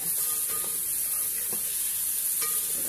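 Green beans drop into hot oil for a tempering and sizzle in a steady, close frying hiss, with a few faint clinks of stirring and no talk.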